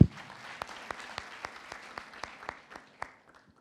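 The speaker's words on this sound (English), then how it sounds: "Please, let's clap." Sparse, slow clapping at a youth forum panel session: a handful of distinct, evenly spaced claps ring out after an initial thump, faint and slightly reverberant in a quiet room, fading out toward the end.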